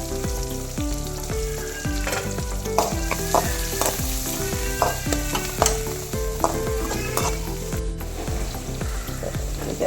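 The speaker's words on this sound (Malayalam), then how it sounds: "രണ്ട് പച്ചമുളക് കൂടി ചേർത്ത് നന്നായിട്ട് വഴക്കിയെടുക്കാം" Onion, shallots and green chilies sautéing with fried urad dal for a thoran, a loud continuous sizzle with rapid rhythmic spatula scraping against the pan, close and without speech.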